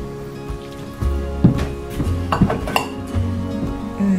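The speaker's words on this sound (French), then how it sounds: "j'ai fait chauffer de l'eau chaude et je rince mon matériel" Metal utensils, including a spoon and small pots, clinking and knocking together while being rinsed with hot water during homemade moisturizing cream preparation, a close series of irregular bright clinks over a low hum.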